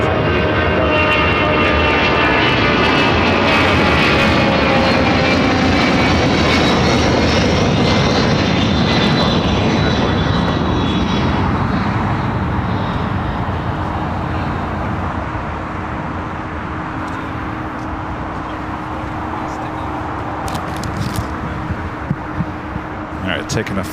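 Delta airliner taking off from runway 25 right at Los Angeles International Airport, a loud roaring jet engine swelling and then slowly fading into the distance, with people talking over it.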